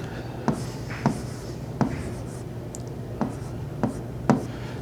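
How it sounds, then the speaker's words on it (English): A pen moves across paper in short, scratchy strokes, about seven distinct taps and scrapes spaced roughly half a second apart, close by in a quiet room with no talking. "I'm still going to write down what I got when I went out there and shot it."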